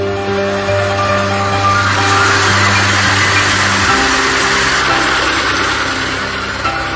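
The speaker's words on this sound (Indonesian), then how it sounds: "kita lakukan dulu penyedotan air dengan mesin sehingga memudahkan pengambilan udang" A motor-driven water pump runs steadily while draining a 1,500 square metre shrimp pond before harvest, a loud continuous engine drone with steady low hum and broadband splashing wash, no pauses.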